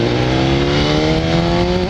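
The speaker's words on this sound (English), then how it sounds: "I love the popping sound of the quick shifter." A Kawasaki H2 motorcycle at steady high revs under way, a loud continuous engine drone with strong rising harmonics throughout, with no distinct pops or breaks from the quick shifter standing out.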